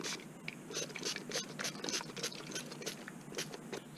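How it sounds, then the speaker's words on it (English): A handheld spray bottle mists water onto a watercolor painting in a quick series of soft, hissing squirts, faint and close, with no voices. "This is a spray bottle."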